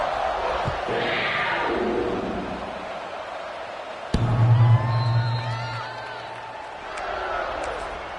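A football stadium crowd at a college game, Kentucky against Ohio State, buzzes as a steady roar under a play-by-play commentator's voice, with a brief swell and a sharp thump partway through.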